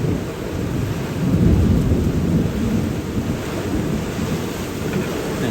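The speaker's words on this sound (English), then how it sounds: "it's going to be a little loud with the rain" Heavy rain pours steadily outdoors in a Louisiana swamp and bayou setting while thunder rumbles low and loud, swelling in the middle, with no voices over the dense, continuous roar.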